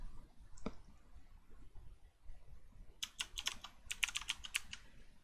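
Brief bursts of quick keystrokes on a computer keyboard while Python code is typed, light rapid clicks close up after a single earlier tap, otherwise quiet.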